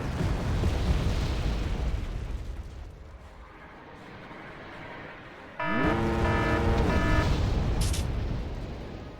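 Artillery explosions rumble in the Wargame: Red Dragon strategy game, a dense wash of heavy booms that eases off and then returns loud with a rising whining engine-like tone and a brief sharp burst.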